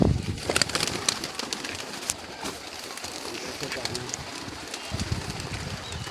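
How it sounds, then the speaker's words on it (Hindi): A pigeon lands at a loft, wings flapping at the start, then soft low cooing and rustling follow, with someone talking over much of it. "ये भी कबूतर आया जी दोस्तों"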